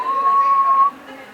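A person mimics a 6-year-old boy's attempt at whistling: one breathy, wavering tone held for about a second, then it stops.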